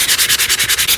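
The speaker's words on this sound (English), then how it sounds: "This is where the sanding sponge comes in really handy" Rapid rhythmic scrubbing of a sanding sponge worked back and forth over a surface being prepped for paint, about nine even strokes per second, loud and close, with no voices.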